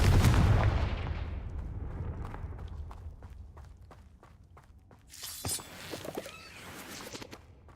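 A Confringo blasting spell explodes in the video game Hogwarts Legacy, opening with a loud boom that slowly fades, then a run of small crackling impacts and a later shattering burst, all fairly close.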